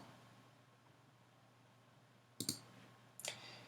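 Two sharp, close mouse clicks in the Tinkercad circuit simulator, each a quick double tick, breaking a faint quiet room hum.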